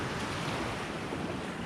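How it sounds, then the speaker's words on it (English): Large ocean waves break and wash onto a beach on Eleuthera in the Bahamas, a continuous broad roar of surf mixed with wind buffeting the microphone, steady and loud with no talking. "The waves coming in are huge out there."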